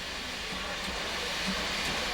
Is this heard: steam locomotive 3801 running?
yes